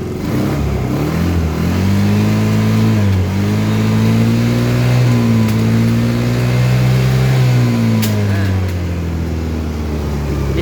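Carbureted Yamaha Xeon scooter engine revved repeatedly, the engine note rising and falling in loud, close sweeps over a steady idle, with no talk over it.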